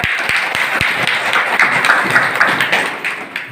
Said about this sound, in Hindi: लिए कम से कम तालियां तो हो जाए दोस्त।